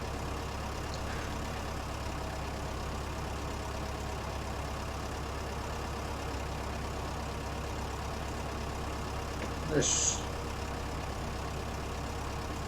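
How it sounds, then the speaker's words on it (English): A tractor engine idles steadily in a farming video game, a low continuous drone throughout, with one brief click near the end. "tractor we've not used before, so it's an excuse to use something a little different"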